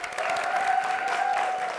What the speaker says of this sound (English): one big more round of applause for Southwest CTA